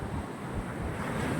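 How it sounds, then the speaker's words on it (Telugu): Ocean surf rolling in at Anjuna Beach in Goa, a steady, loud wash of breaking waves mixed with heavy wind buffeting the microphone and no voices. "అలలు అయితే ఫుల్ అంటే ఫుల్ వస్తున్నాయి"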